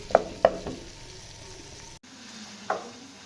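Potato pieces fry in a pan for a dhaba-style mixed vegetable dish, with a soft, steady sizzle under a few sharp clicks of a spoon stirring against the pan.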